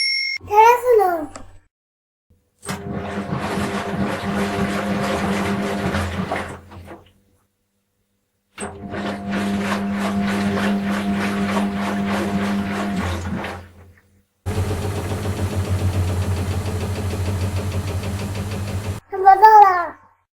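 A washing machine runs in three long stretches of steady mechanical hum and churning, separated by short pauses, with a voice speaking briefly before and after.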